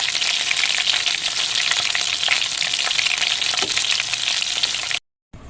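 Masala-coated chicken pieces fry in hot oil, giving a close, continuous crackling sizzle with occasional pops for about five seconds before cutting off abruptly.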